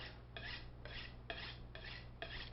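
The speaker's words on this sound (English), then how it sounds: "So you sharpen it both sides, same amount? Yeah, this is two-sided. It's got a coarse and it's got a fine." A kitchen knife drawn in repeated strokes through a two-sided coarse and fine sharpener, about five close, steady rasping scrapes in an even rhythm over a low background hum, with no voices.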